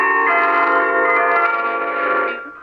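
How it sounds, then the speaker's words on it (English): Radio Netherlands Worldwide interval signal played on bells, a sustained, ringing chime melody with long overlapping tones, loud and clear and alone, fading out at the end. "Right now, we're going to start the bells."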